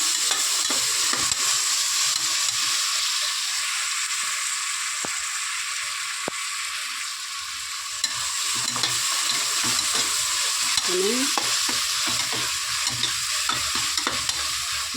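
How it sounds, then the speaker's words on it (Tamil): Green chilies, onion and ginger-garlic paste being sautéed in a pan, with a steady sizzling hiss throughout and occasional sharp clicks and scrapes of a spoon against metal. "பச்சை மிளகா, வெங்காயம், இஞ்சி பூண்டு பேஸ்ட்டு எல்லாத்தையும் போட்டு நல்லா வதக்கி"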